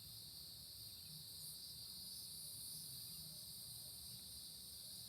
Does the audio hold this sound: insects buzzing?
yes